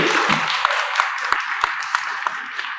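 An audience claps at a film opening ceremony, with dense applause and a few sharp, close claps standing out above the steady wash of hands, continuing throughout.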